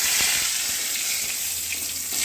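Nigella seeds and a bay leaf dropped into hot oil hiss and sizzle steadily, a close, even bright crackle with no talking.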